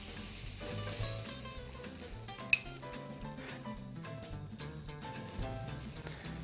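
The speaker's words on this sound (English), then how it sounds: "we're going to use this same pan and we're going to cook our mushrooms and our spinach" Mushrooms and spinach sizzle in a pan with leftover beef juices, a close, steady frying crackle with light clinks of a utensil against the pan and one sharp tap partway through.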